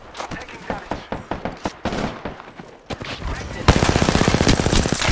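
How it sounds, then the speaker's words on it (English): Gunfire in the video game Apex Legends: bursts of single shots early on, building into a rapid, loud automatic stream near the end, with game noise throughout. "Missed all my shots."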